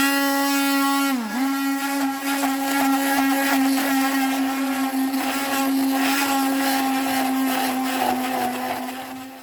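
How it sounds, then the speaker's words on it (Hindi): Electric mixer grinder blending chutney ingredients, including cumin, salt, raisins and a bunch of coriander leaves, with a loud, steady, high-pitched motor whine that dips briefly in pitch near the start and then holds for several seconds. "इसे भी ग्राइंड कर लेंगे।"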